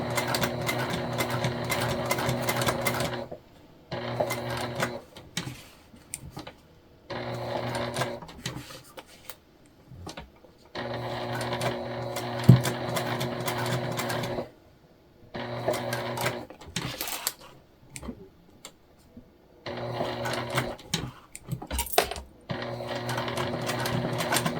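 A sewing machine stitches a raw-edge ghost appliqué in bursts of several seconds, its rapid mechanical whir starting and stopping repeatedly with brief quiet pauses between runs.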